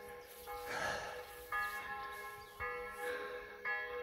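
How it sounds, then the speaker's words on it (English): Church bells ring distantly and faintly in slow repeated strokes before sunrise, each tone ringing on with a long hum beneath soft breathing. "Church bells."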